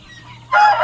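Free-range laying hens on a pasture farm call out in a close, loud burst of clucking and squawking that rises suddenly after a quieter stretch of softer bird sounds.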